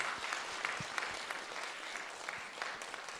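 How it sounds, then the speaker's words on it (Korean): A church congregation at a Sunday worship service applauds in welcome, steady crowd clapping throughout, moderately distant and continuous without talk. "일어나서 우리 환영의 박수 할까요?"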